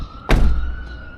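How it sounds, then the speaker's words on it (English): The door of a 2025 Suzuki Jimny swings shut with one solid, close thunk that has a slightly hollow, tinny ring and a brief rattling decay. "when you close the door,"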